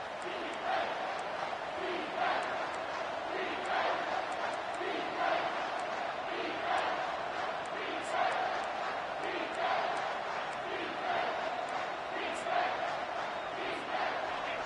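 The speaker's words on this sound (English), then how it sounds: "The crowd elevating its energy, willing this defense to get a stop on this big 3rd down." Football stadium crowd roaring steadily on a big third down, a loud sustained wash of many voices with rhythmic swells of chanting and cheering throughout, no single speaker standing out.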